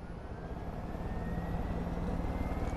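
A helicopter lifts off in Far Cry 5 with a steady, droning rotor and engine hum that gently builds in loudness, with no voices.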